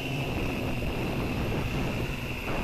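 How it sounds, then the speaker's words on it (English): Strong, heavy wind buffets the microphone outdoors during a hexacopter's maiden flight, a steady broadband roar with a faint motor whine running through it, continuous and loud with no speech. "Got quite a bit of a strong wind."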